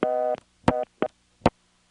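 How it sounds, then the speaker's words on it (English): Reorder tone from a Stromberg Carlson XY telephone switch, reached over a long cable pair from Batesburg, SC in 1977, comes as a few short, uneven bursts of a buzzy dual-pitch tone, with silent gaps between them. "Immediate reorder. That means this is a Stromberg Carlson XY that we have connected to."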